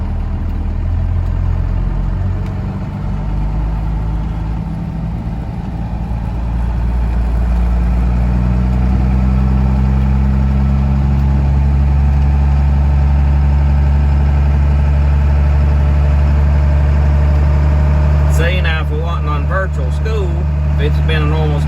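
A 12 valve Cummins truck engine coasting with the clutch in on a snowy road, a loud steady low diesel rumble throughout, with speech breaking in near the end.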